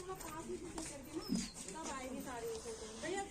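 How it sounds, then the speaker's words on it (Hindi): A frightened dog in an Indian village whimpers close by, with soft high whines rising and falling, partly under a person talking. "यहाँ पर डॉगी है"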